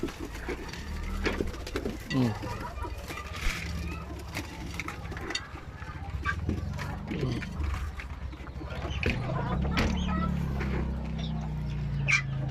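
Pet pigeons coo in low, repeated throaty phrases while being fed in the late afternoon, close by, mixed with a voice, occasional dog barks and light mechanical clatter.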